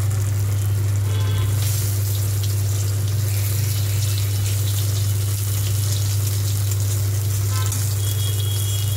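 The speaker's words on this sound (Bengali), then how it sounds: "এরপর আমি দিয়ে দিচ্ছি জল।" Water pours into a pan of cumin and green chilli tempering in a steady, loud gush with a splashy hiss, over a constant low hum, with no voices.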